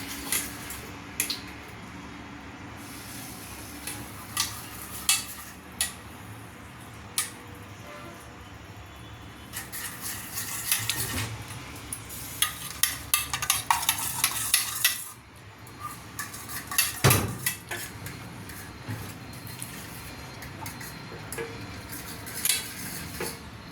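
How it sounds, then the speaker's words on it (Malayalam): A sweet bun filling with butter is stirred and melted in a pan, with a spoon clinking and scraping against the metal in irregular strokes over a faint, soft background, and no talking. "നല്ലതായിട്ട് ഇത് ഉരുക്കി നല്ല മിക്സ് ചെയ്തെടുക്കാം."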